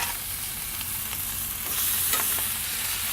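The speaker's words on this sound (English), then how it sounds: "Add your pork chops and let them sear." Pork chops searing in a pan of very hot, smoking olive oil give a steady, close sizzle and hiss, with a few soft stirring scrapes and faint pops over the top and no voices.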